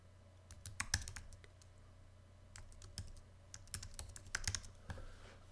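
Computer keyboard keys tapped in faint, quick irregular clicks, a file name typed out in short bursts over a low steady hum.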